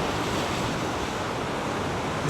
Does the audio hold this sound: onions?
no